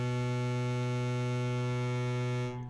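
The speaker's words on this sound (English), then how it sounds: "It's a sawtooth wave." A steady, buzzy sawtooth wave from the first oscillator of an ARP 2600 synthesizer rebuilt in Max, one sustained bright pitch with dense harmonics held at even loudness and cut off at the end.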